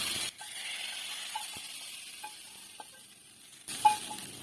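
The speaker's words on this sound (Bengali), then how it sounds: "এখন আমি ভাজা রসুন মরিচ এর ভিতরে দিয়ে দেব" Fried garlic and chili dropped into a pot of haleem, a sudden sizzling hiss at the start that dies down into quiet stirring and small metal clinks, then a second sharp burst of sizzle near the end.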